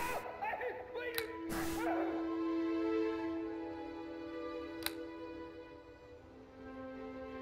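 A dog in the video game Neverwinter Nights yips and whimpers in a few quick bursts near the start, followed by a fading tonal effect and a short click, with game ambience underneath and no talking.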